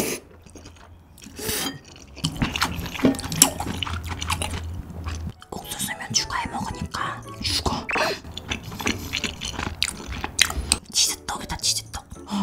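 Mukbang-style eating of malatang and mala xiang guo, with wet slurping and chewing of noodles in spicy broth close to the mic, broken by bursts of crunching, while a voice speaks softly over parts of it.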